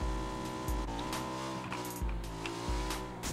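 A Mirado car in PUBG drives along, its engine droning steadily with rising tones as it repeatedly shifts gears and revs up, heard close and alone.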